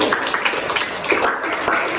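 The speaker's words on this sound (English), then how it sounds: "Give applause for Akil and Aha." Students in a classroom applaud briefly, giving moderate, fairly steady clapping for about two seconds.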